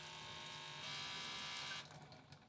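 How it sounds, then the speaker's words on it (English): Motorized sprayer of an Insolife portable travel bidet running steadily with a close, continuous whir and hiss, growing a bit louder midway before cutting down to a softer residual noise near the end. "I just wanted to also show you guys here how loud the sprayer is"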